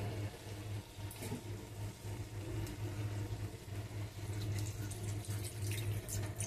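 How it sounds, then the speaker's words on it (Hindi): A glass of water pours into a soybean and potato curry cooking in a pan, a steady splashing, gurgling stream running continuously against a low background hum. "तो इसमें एक गिलास हमने पानी ऐड कर दिया है।"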